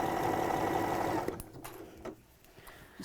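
A home sewing machine stitches in a steady, fast mechanical whir for just over a second, then stops abruptly, leaving a quiet room with a few small clicks and handling sounds.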